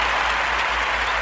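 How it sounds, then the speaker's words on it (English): A dense, steady round of applause fills the moment, many hands clapping at once without a break, loud and close. "we need to give ourselves a round of applause for that"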